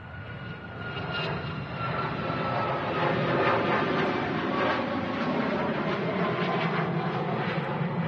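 A SunExpress Boeing 737 MAX 8 departs Manchester Airport, its jet engines building from a rumbling roar to a loud sustained thrust that fills the air.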